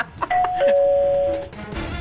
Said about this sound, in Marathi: किती वेळ बेल वाजते